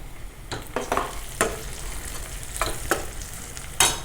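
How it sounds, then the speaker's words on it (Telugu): Onions frying in hot oil in a pan on a stove for a fenugreek leaf and tomato curry: a steady, close sizzle with crackles and occasional stirring scrapes, no voices. "స్టవ్ వెలిగించి నూనె పోసుకొని ఆనియన్స్ వేపుకుందాం."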